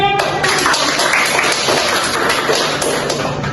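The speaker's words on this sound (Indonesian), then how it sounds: "Berikan tepuk tangan pada teman" A classroom audience of students claps steadily for a classmate during a mini teaching-practice session, dense close applause running throughout without a break.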